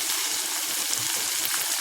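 Tomatoes hit a hot frying pan of onion and curry leaves for a vegetarian kuzhambu gravy, giving a loud, steady broadband sizzle with faint stirring scrapes throughout and no talking.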